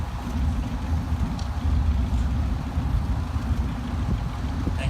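A Swedish armored personnel carrier drives past in an army vehicle parade at a steam show, its engine giving a steady, loud low rumble that fills the whole stretch without pause.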